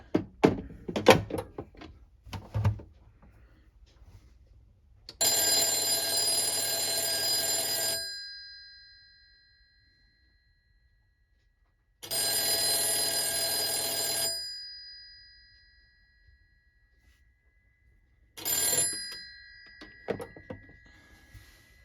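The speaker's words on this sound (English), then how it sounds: "and then we'll ring the phone." An Italian Siemens/Italtel S62 telephone bell rings close and loud in two long jangling bursts and a short third one, after a few handling clunks, with silences between the rings.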